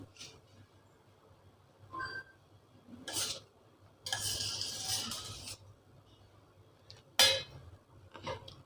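Cooked home-strained rice mashed with a ladle in a vessel for curd rice, sparse metallic clinks and scrapes with short bursts of squishing and quiet gaps between.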